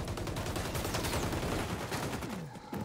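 Rapid bursts of automatic gunfire in a first-person shooter game crackle densely and close for over two seconds, then thin out into scattered shots and fade.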